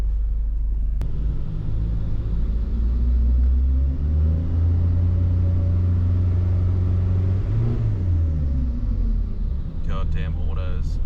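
Nissan ZD30 diesel engine in a vehicle with an automatic gearbox, accelerating on a test run: a loud, steady low rumble and drone that climbs gradually in pitch, then drops back near the end.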